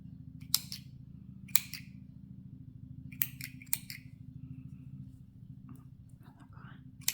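Sharp snips of small scissors cutting embroidery thread during cross-stitch work, four or five crisp cuts spaced irregularly over a low steady hum.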